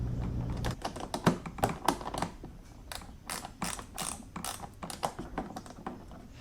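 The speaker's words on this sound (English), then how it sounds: "All right, we'll put our 3 Torx screws in here." A hand ratchet drives Torx screws into a carbon fiber front splitter on a Corvette C7, producing rapid, close clicking bursts in an uneven rhythm, with no talking.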